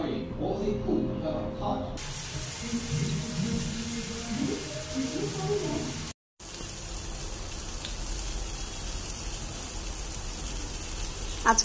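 Chicken frying in a home kitchen, a steady broadband hiss of sizzling oil running the whole time, with a brief dropout midway and faint background voices early on.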